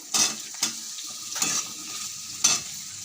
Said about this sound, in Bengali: কড়াইতে দিয়ে দেবো ভালো করে ভেজে নেব পেঁয়াজটার সঙ্গে